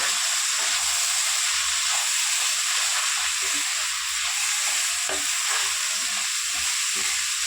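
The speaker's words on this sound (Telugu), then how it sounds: "టమాటా కూడా వేసి బాగా కలిపేసుకుందాం." Tomatoes being stirred into a sizzling pan of broad bean and egg curry, a steady hiss of frying with soft scraping stirs, close and moderately quiet.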